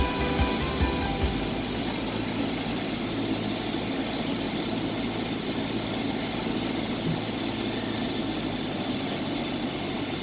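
A small airplane touches down on runway 32 at Sarasota (SRQ) in a left crosswind, left wheel first; a steady, loud engine and cabin drone runs throughout with a low rumble, and nobody speaks.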